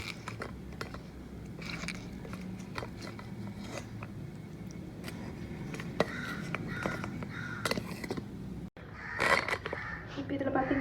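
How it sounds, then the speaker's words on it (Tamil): Crows caw loudly outdoors in short harsh bursts, clustered toward the end, over a steady background of kitchen noise where baby food is being prepared. "காக்கா நல்லா கத்துது"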